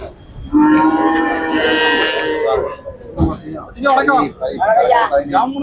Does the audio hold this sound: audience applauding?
no